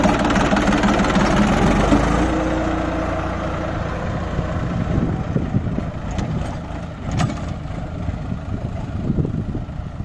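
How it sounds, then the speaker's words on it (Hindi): A New Holland 3230 diesel tractor engine runs at a steady idle up close, a low knocking rumble with slight vibration and a few faint clicks over it. "देख सकते हो भाई बहुत अच्छा चल रहा है ट्रैक्टर"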